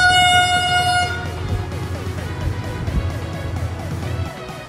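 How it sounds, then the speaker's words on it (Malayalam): Loud sustained horn of a Vande Bharat express passing a station, a long tonal blast that stops after about a second, then the heavy rumble and clatter of the train rolling through. "നമ്മുടെ വന്ദേ ഭാരത് ഇങ്ങനെ പാസ് ചെയ്ത് പോകുന്നത് കാണാൻ സാധിച്ചു"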